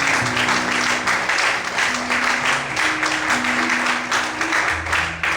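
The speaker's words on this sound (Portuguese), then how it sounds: "As fortes palmas do Senhor Jesus." A church congregation applauds loudly during a sermon, a dense, steady wash of clapping filling the space, with faint music or voices underneath.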